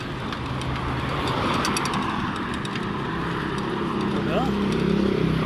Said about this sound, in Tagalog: Highway kasi ito mga idol. Parurot ng mga sasakyan.